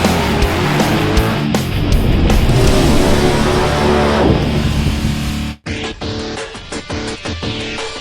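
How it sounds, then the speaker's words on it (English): A Dodge Challenger SRT8 muscle car with a Flowmaster American Thunder catback exhaust roars loudly and close, with a sustained rumbling rev that drops away into choppier, pulsing exhaust bursts after a brief break. "We couldn't have picked a better place to test this modern-day muscle car with this Flowmaster exhaust"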